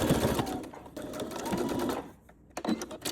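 A sewing machine stitches a strap onto a mahjong racks bag in steady bursts of whirring, pausing briefly near the end before a short final run of stitches, close and fairly loud.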